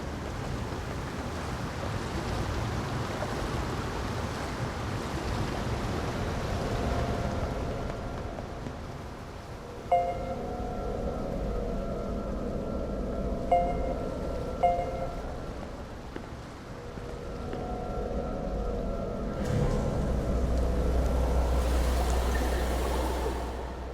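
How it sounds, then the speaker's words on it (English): Steady rain in NieR Reincarnation, a soft continuous wash with a few faint tonal chimes partway through and a swell of heavier noise near the end. "The only sound is the rain."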